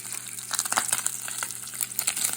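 Wagyu beef bacon fries in grease in a Teflon pan, a steady close crackle and hiss with small pops and the occasional scrape of a utensil.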